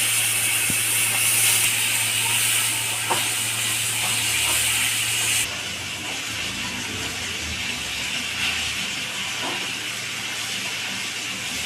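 Chopped tomatoes hit a hot pan for a vegetable curry with potatoes, soybean chunks and papaya, giving a steady hiss of sizzling that drops a little in level midway, with no voices.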